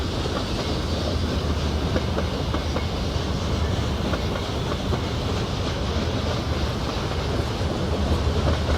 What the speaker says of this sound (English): Let's watch this train car clip into the water.